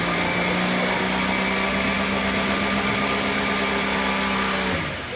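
A Cummins diesel engine in a RAM pickup, running inverted, drones at a steady loud pitch with harmonic hum and vibration for several seconds, then abruptly falls away as it dies.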